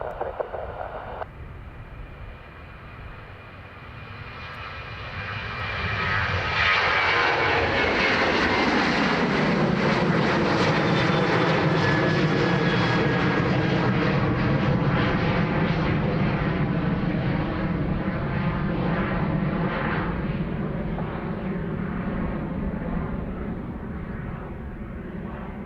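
A Ryanair airliner's jet engines at Dublin Airport build from a low idle to a loud, sustained takeoff roar that holds steady and dominant for the rest of the stretch.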